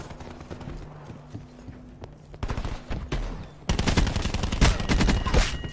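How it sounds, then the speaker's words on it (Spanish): Rapid bursts of submachine gun fire from Call of Duty: Black Ops 4 in a team deathmatch, sparse shots early, then dense sustained automatic firing at loud volume to the end. "Este arma, sí, este es uno de los mejores subfusiles que tiene Black Ops 4"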